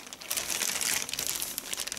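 A crinkly plastic packaging bag from a perfume package is handled close up, giving a continuous, dense crackle and rustle for the whole two seconds with no talking.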